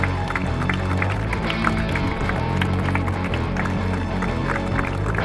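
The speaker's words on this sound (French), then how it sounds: "Merci de faire un tonnerre d'applaudissements pour Guillaume Décimos" Crowd applause and cheering at an outdoor motorsport podium ceremony for a second-place finisher, a dense continuous wash of clapping over background music and crowd noise.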